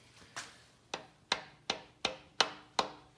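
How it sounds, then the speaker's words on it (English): Rubber hammer tapping a main bearing into a Mk4 VR6 engine block, giving eight sharp, evenly spaced knocks at close range, each with a quick decay and no talk. "Don't use a metal hammer, just a rubber one works great."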